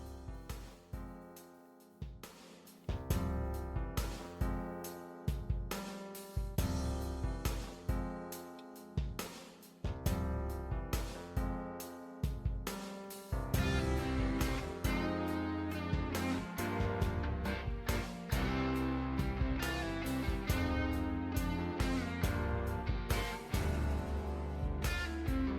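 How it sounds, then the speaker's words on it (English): Soundtrack music from the video game Minnesota Fats Pool Legend plays throughout, a steady, loud instrumental track with punchy rhythmic hits and layered melodic parts that grow brighter and denser in the second half, with no talking. "it does have a soundtrack that all sounds like Minnesota Fats Pool Legend"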